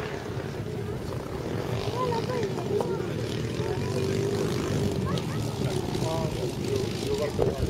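A P-47 warplane with a roughly 280 cc engine comes in to land at a 70th-anniversary D-Day event, its propeller engine droning steadily and fairly loudly throughout, over a background of crowd noise.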